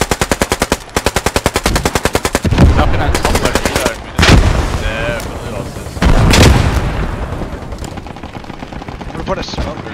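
Rapid bursts of machine-gun fire rattle in Post Scriptum, followed by heavy booming blasts from a grenade and scattered shots, loud and close, with voices calling out over the combat.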